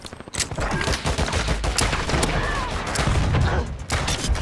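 Pistol gunshots from a first-person shooter video game fired at a distant target in a long-range sniping play, sharp reports popping through continuous dense game noise.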